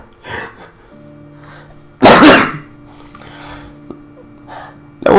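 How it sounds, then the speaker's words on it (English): A person coughs several times close by, with one loud harsh burst standing out among softer coughs and throat noises, over a faint steady background tone. "No wonder I'm coughing."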